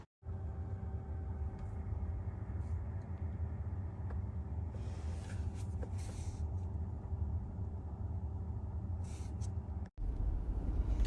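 A 2022 Tesla Model X Plaid cruises at about 30 mph, a steady low road rumble and tyre hum heard from inside the cabin, continuous and even, with a brief dropout near the end.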